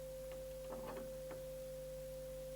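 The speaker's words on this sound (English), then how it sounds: "It's represented by a sine wave too, and we add it in." A synthesized sine-wave overtone added to a tuning-fork tone in a clarinet-sound demonstration hums as a steady pure whistle, held evenly throughout with a faint low drone beneath and a few soft clicks.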